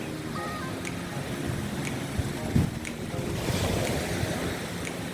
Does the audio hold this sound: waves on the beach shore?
yes